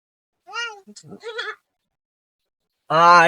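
A goat bleats in short, close calls: two brief bleats, a pause, then a louder, longer bleat.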